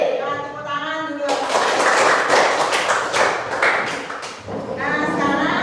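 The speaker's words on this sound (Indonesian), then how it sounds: "Nah, tepuk tangan dulu." A classroom group led by a teacher bursts into a loud, dense round of hand clapping lasting several seconds, framed by brief murmuring before and after.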